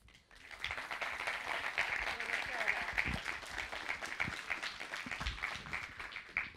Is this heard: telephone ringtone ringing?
no